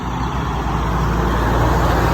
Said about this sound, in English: like you hear the truck